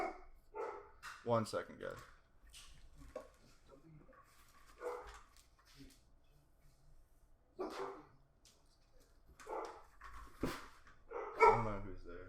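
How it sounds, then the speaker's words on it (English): Dogs bark and yip excitedly at a knock on the door of a home, in several sharp bursts scattered across the clip and mixed with someone speaking close by. "someone's like knocking at the door. Dogs are going crazy."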